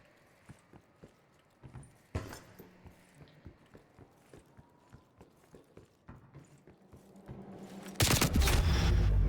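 Gunfire in the video game Call of Duty Cold War: a string of sharp, quick shots crackles at an uneven pace and then swells into a loud, dense burst of firing at the very end.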